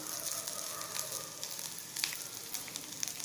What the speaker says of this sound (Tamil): சோம்பும் கிராம்பு எடுத்து வச்சுருக்கு இல்லையா, அதுவும் போட்டுக்கலாம். சும்மா லைட்டாக மட்டும் வறுத்தா போதும்